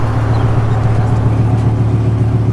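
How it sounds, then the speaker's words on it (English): A stroker V10 in a BMW M5 with mufflers removed and resonators still fitted, running a loud, deep, steady drone close by, held without a sharp rise in pitch. "Let me get a quick rev before you turn it off."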